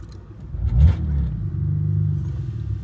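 A VR4 engine running on E85 fuel revs up hard with a low, rumbling growl, then settles into a steady, strained drone close by, with no talk.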